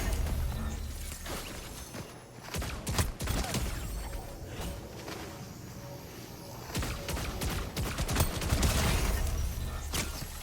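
Rapid gunfire from Fortnite, with bursts of hip-fired shots cracking out in quick clusters over a dense, busy game soundscape that never quite goes quiet.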